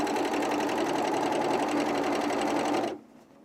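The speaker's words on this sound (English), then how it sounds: "So now we're just sewing one side seam" Industrial sewing machine running a steady, loud continuous stitch along an underwear side seam, stopping abruptly near the end into quiet.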